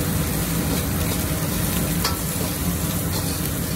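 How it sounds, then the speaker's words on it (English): Green bell pepper and beef stir-fried together over low heat in a wok give off a steady, loud sizzle and frying crackle that continues without a break, along with faint scraping as the food is stirred. "now green pepper go in."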